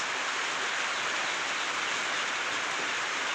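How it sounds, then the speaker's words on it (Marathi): Steady rain pours outside in Jalgaon during an unseasonal first shower, a dense, even hiss of drops hitting surfaces without pause. "आपला हा बाहेरील पावसातील व्ह्यू तुम्ही बघू शकता मित्रांनो"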